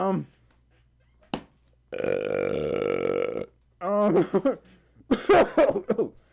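A single loud, drawn-out burp from an adult during a live stream, rising sharply after a quiet pause, with a click just before and speech following close up.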